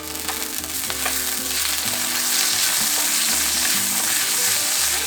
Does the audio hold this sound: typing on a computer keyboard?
no